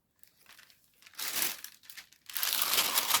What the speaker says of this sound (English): Crinkly noise.